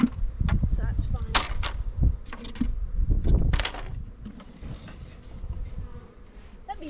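Honey bees buzz around hive frames being lifted out during an inspection, with intermittent buzzing and handling knocks mixed under a person talking close by.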